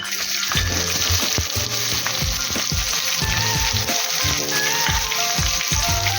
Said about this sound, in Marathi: आणि हा कांदा चांगला परतून घेऊया.